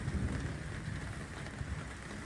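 Light rain falls outdoors in Lucknow as a soft, steady hiss with faint low wind rumble, fairly quiet and continuous, with no one speaking.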